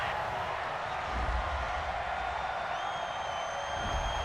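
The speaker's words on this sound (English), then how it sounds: "this crowd does not like that call" A stadium crowd at a Las Vegas Raiders vs. Tennessee Titans NFL game reacts to a roughing-the-passer penalty with a sustained, fairly distant roar and murmur of displeasure that swells slightly partway through.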